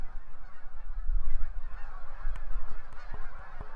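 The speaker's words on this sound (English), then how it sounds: "Slow at first, then rising to include more and more birds, the geese are here." Many geese of a fall migration flock honk overhead, calls overlapping and building in a noisy chorus over a low rumbling background.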